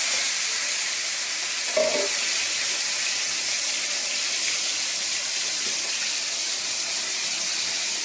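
Steady, dense sizzling hiss of pomfret fish frying in oil, constant throughout with no pauses and a faint clink partway.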